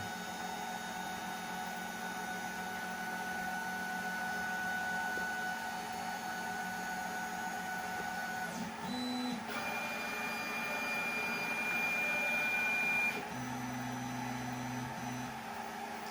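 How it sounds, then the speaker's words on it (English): A Snapmaker 2.0 A350 3D printer hums and whirs steadily as its nozzle moves through calibration, with brief stepper-motor tones shifting pitch near the end, close and alone. "Now the nozzle is moving. It's going down."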